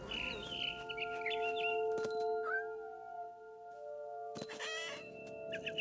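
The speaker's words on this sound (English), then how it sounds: "Then I heard chirping outside my window. It was a barn swallow going back to her nest." Chirps and twittering of a barn swallow in the video game What Remains of Edith Finch, short bird calls in bursts over a sustained musical background, with pauses between.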